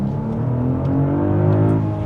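A 2025 BMW X3 M50 SUV engine revs up with a rising, throaty hum, heard from inside the vehicle as it accelerates steadily over a couple of seconds.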